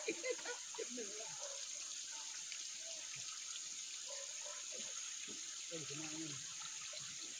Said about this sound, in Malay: So inilah dia sungai yang keluar daripada tanah sebelah ni.